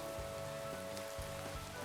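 Rain falls in the Minecraft modpack Supersymmetry, a soft, steady patter of drops with faint irregular taps throughout, heard alone at low volume.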